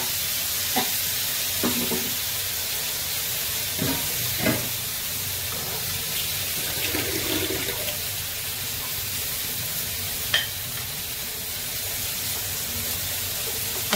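Fish sizzles and spits in hot oil in a pan, a constant close frying hiss with occasional scrapes and pops, with no talking.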